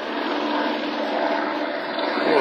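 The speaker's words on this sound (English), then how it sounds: "there's a rescue helicopter, or Maricopa County helicopter" A Maricopa County rescue helicopter passes overhead near a hiking trail in Cave Creek, producing a continuous, fairly loud broadband rotor and engine roar that holds steady.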